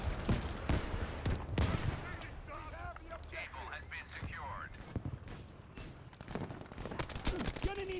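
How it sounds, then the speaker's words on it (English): Artillery strike in the Battlefield V video game: a volley of sharp, booming blasts and rapid gunfire bursts, loud and repeated across the clip, with a voice talking in between. "Sector artillery, I called it in."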